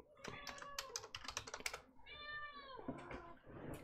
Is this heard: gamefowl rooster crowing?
no